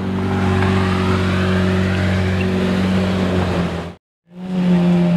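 A Lamborghini Murcielago LP460 V12 engine revs loud and close, its steady roar holding with a rising whine before cutting off abruptly for a brief moment and then surging back.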